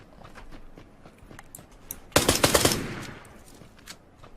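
Glock-18 fully automatic pistol fire in a video game comes as one quick rattling burst about halfway through, surrounded by quiet footsteps and faint ambient clicks.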